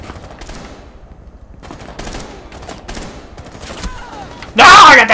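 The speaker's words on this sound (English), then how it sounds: "Being shot at from behind." Rainbow Six Siege gunfire: scattered quiet shots and clattering under a low murmur of voices, then a sudden loud close burst of rapid automatic fire near the end.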